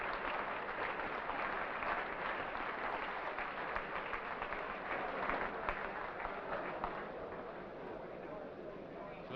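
Boxing crowd at the Anglo-American Sporting Club applauds Alan Rudkin, steady clapping from a large audience heard faintly and evenly throughout, with a commentator's voice over it.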